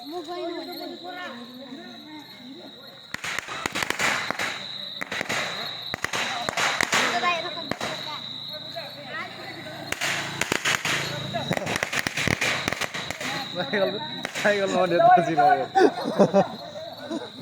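Firecrackers burst in rapid clusters at a street protest where tires are being set alight, sharp loud bangs crackling over a steady high insect drone, with voices talking throughout.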